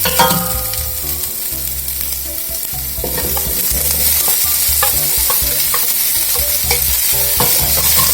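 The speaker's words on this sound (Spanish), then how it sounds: "vamos a poner nuestra cebolla para que se haga transparente. Le vamos a agregar la chuleta." Onion and a smoked pork chop sizzle loudly and steadily in oil in a frying pan, with a continuous close hiss and occasional utensil scrapes.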